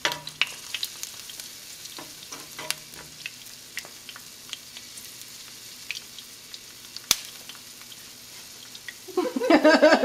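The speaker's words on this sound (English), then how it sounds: "So I'm gonna sear these up a little bit more." Garlic sears in a pan for Mexican pickled jalapeños and carrots, giving a soft, crackling sizzle with light clinks and stirring taps, then a louder burst of sizzling at the very end.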